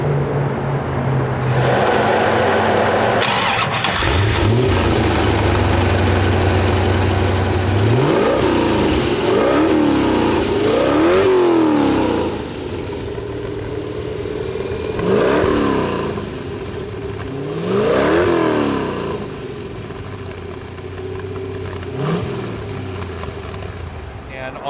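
The original Ford 351 Cleveland V8 in a 1972 De Tomaso Pantera, fitted with fuel injection, revs repeatedly in sharp rising and falling bursts, loud and close, with a person talking over the engine.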